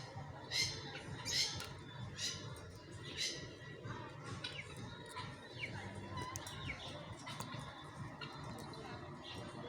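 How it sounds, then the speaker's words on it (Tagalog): Repeated sharp bird squawks and chirps over a busy background, a few calls per second, fairly near. "Dun pala yung ibon, oh."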